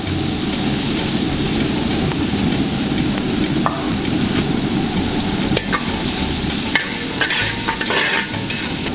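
Sliced onions and green chilies fry steadily in hot oil in a pan for a Kerala fish dish, a loud continuous sizzle with occasional scrapes and clinks of stirring and no voices.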